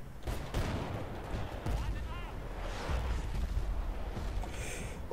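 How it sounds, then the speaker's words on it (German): Air strike explosions and gunfire boom through a Bad Company 2 battle, with dense rumbling blasts and crackling shots continuing without a break under loud game noise. "Oh, Luftangriff."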